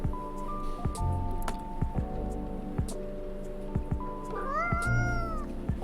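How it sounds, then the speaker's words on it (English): A cat in the video game Coffee Talk 2 meows several times over music, with clear, close, rising and falling calls that sound bright and a little plaintive. "Aw, it's a kitty."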